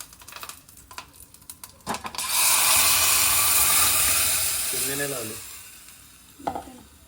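Hot oil spatters sharply in a pan while idlis are cooked, a loud burst of crackling that swells and holds for several seconds, then fades. A few voices and kitchen knocks sound before and after.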